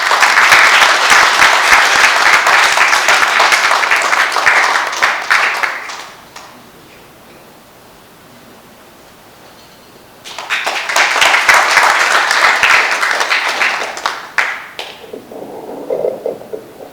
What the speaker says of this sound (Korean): 큰 박수를 보내주십시오